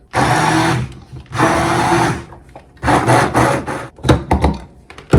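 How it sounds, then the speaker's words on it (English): Immersion blender running through a pot of chickpea and greens soup, loud whirring bursts in three long stretches separated by short pauses, then choppier pulses near the end. "So I'm gonna blend it with the immersion blender, or you could use a blender until it's totally smooth."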